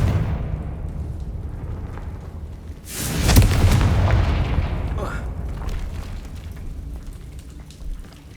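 A Confringo blasting spell goes off in the video game Hogwarts Legacy, a loud booming blast midway that rolls into a long fading rumble over a steady game background.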